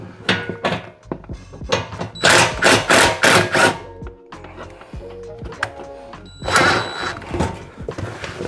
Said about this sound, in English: So I'm gonna loosen those bolts up a little bit.